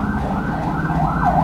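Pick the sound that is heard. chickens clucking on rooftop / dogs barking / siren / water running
siren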